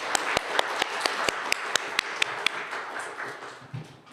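A church congregation at a Sunday young-adults service claps for the pastor, a run of sharp, evenly spaced claps close by that thins out and fades toward the end.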